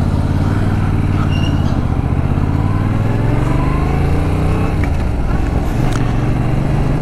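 A loaned Yamaha motorcycle ridden on a road test around Tarbes, its engine droning loudly and steadily with gradual shifts in pitch as it accelerates, accompanied by heavy wind rush.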